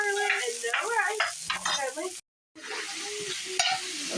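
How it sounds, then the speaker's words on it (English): Meat, onion and garlic browning in a pan: a steady, close sizzle with spoon strokes, a muffled voice running under it and a brief dropout to silence partway through. "So here's our meat and our onion and garlic. We're gonna brown this up."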